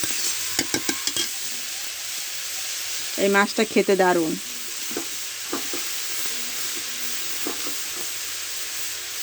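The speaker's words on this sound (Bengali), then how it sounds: "কড়াইতে তেল দিয়ে ভেজে নেব" Titul fish fry in oil in a wok with a steady broadband sizzle, punctuated by scraping stir strokes and utensil clinks, while a person speaks briefly partway through.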